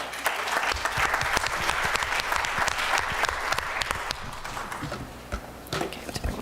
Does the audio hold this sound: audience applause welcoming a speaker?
yes